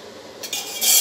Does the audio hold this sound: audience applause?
no